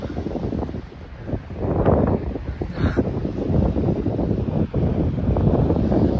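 Strong, gusty wind buffets the microphone outdoors in Ukhta, producing continuous low rumbling bursts that rise and fall with no one speaking.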